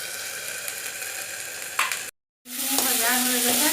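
Potatoes and tomatoes sizzle in hot oil in a pan for an Assamese fish curry, with a steady crackle, a brief cutout, then a brighter, louder frying hiss with stirring.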